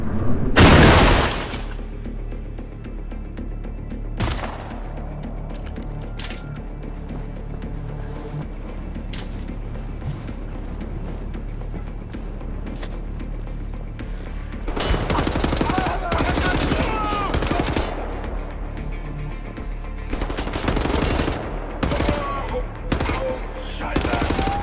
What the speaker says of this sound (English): And oh boy, there's a big gun.